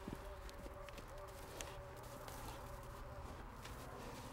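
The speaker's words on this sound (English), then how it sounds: "we're here in one of the 5 horse pens. We're with the stallions" Appaloosa stallions of the Nez Perce move around inside a horse pen, hooves clopping faintly and irregularly against a steady hiss of background noise, with people talking softly in the distance.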